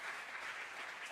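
A short burst of audience clapping at a church sermon, steady and moderately loud, a brief rush of many hands.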